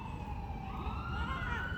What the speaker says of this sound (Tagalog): Yan, may ambulansya